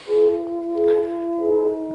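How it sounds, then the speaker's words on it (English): A mellotron tape-replay keyboard sounds a sustained, steady tone with a soft onset, holding for about two seconds alone. "is played by the mellotron instrument"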